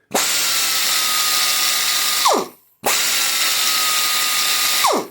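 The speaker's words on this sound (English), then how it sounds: "And I got the same air sander." A pneumatic air sander run on a CO2 regulator whirs loudly in two steady bursts, each winding down with a falling pitch, separated by a brief pause.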